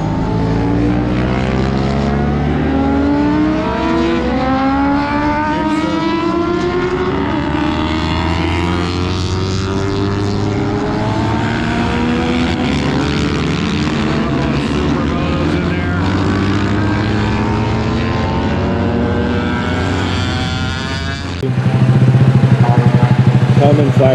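Vintage racing motorcycle engines, a Ducati among them, roar at a Daytona motofest, with engine pitch repeatedly rising and falling as the machines rev and pass. The sound is loud and continuous, and a deeper engine surges in near the end.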